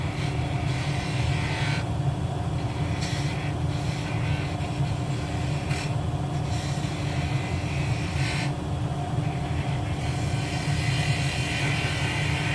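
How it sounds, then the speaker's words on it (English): A wood lathe spins a piece being turned with a fingernail-ground spindle gouge, giving a continuous, steady motor drone and hum that stays even throughout. "Most of this is going to be turned with the spindle gouge, which is ground to a fingernail profile."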